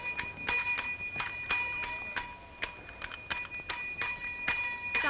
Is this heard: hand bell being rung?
yes